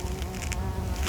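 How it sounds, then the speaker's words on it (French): A small wasp buzzes close by, a loud continuous droning hum with slight shifts in pitch as it moves around. "il y a une petite guêpe qui vient dire bonjour"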